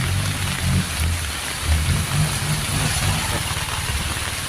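A Kubota combine harvester engine idles and hums steadily at low pitch while rain hisses continuously on surfaces nearby. No voices are heard.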